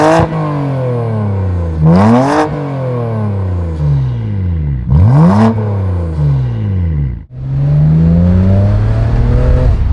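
BMW fitted with a VRSF exhaust revving hard, loud and close: three rising-and-falling rev sweeps with sharp crackling pops at each peak, ending in a sustained high rev.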